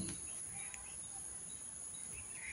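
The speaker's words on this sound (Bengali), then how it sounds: "পাখিগুলো তার সুরেলা কণ্ঠে ডেকেই যাচ্ছে।" Faint birds chirp and sing in the distance over a steady outdoor hiss and buzz of insects.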